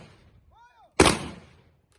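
A single sharp rifle volley fired by an armed unit at a condolence ceremony, one loud close blast with a short decaying tail, preceded by faint ambient noise.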